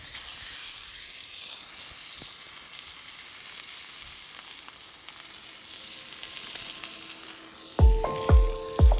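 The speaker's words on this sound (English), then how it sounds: "I'm gonna just check the sear that we got going." A ribeye steak with foraged peppercorn sears in a pan outdoors in a Hawaiian forest, a steady close sizzle and hiss throughout, with a few louder knocking thumps near the end.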